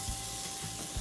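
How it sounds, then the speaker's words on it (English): Steak sizzling on a grill in a cartoon kitchen scene, a steady soft frying hiss with faint low thumps, moderately quiet and continuous with no talk. "I'm gonna make her steak on the grill."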